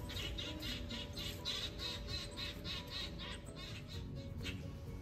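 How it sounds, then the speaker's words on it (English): Birds call outdoors in a garden where herbs are being planted, with repeated short squawks and chirps pulsing steadily over a dense, continuous wash of outdoor background noise. "You'll really hear the birds now."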